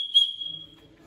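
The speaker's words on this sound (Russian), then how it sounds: "Это свистулка." Rishtan ceramic clay whistle blown once, giving a short, piercing, steady high tone that swells briefly and then fades, fairly faint and alone.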